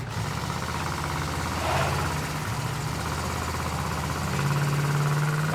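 A junkyard T37 car engine runs at a rough, knocking idle, then revs up in two short surges during a burnout attempt, loud and close with no talking.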